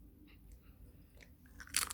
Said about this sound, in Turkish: ama küçük ısırmışsın